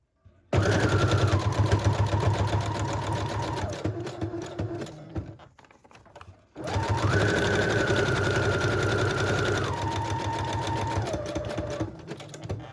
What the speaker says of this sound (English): So I'm going to do a zigzag stitch